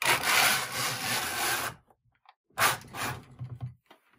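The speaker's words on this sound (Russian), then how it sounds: "каретка движется туго, но тем не менее разрабатываем без пряжи" Carriage of a Severyanka or Neva type knitting machine run idle without yarn, moving stiffly: two long, loud sliding, rasping passes separated by a short silence, with no voices.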